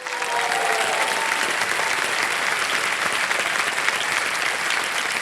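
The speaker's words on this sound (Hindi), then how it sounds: "समय समाप्त हो गया, ताली बज जाए।" A television quiz show studio audience bursts into sustained applause, a dense, even wash of clapping from many hands that holds steady throughout, close and loud, with no talk over it.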